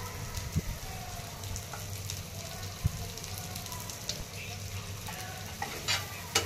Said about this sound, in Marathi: कांदा आपल्याला छान परतून घ्यायचा आहे